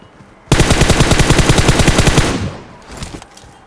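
Rapid automatic gunfire from a weapon in the mobile shooter game Hackers Ground, a loud sustained burst of evenly spaced shots for about two seconds, then a few scattered fainter shots.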